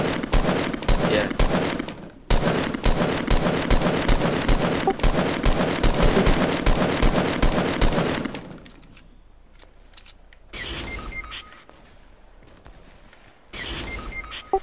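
Rapid, loud automatic gunfire in Fortnite rattles steadily for about eight seconds, then gives way to quieter scattered shots and game effects.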